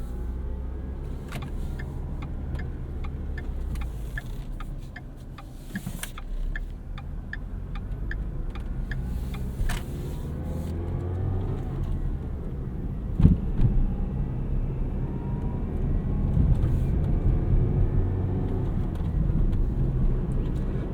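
Manual 2012 Ford Fiesta SE hatchback pulling away in first gear, heard from inside the cabin as a low engine hum that builds steadily, with faint ticking from an indicator early on and a brief thump midway.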